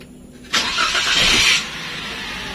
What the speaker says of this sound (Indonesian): Oke, mesin akan menyala.